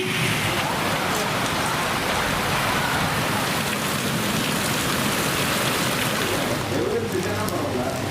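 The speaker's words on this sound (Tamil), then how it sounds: "காற்றுடன் கூடிய கனமழை பெய்தது" Heavy rain driven by strong wind pours steadily onto streets in Pollachi, Coimbatore district, a dense, loud, continuous hiss of drops on surfaces with no pauses.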